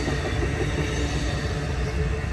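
Amtrak California Zephyr train hauled by P42DC locomotives pulling away from the Reno, Nevada station, a steady, loud rumble of rolling cars and wheels on rail filling the whole moment with no talk.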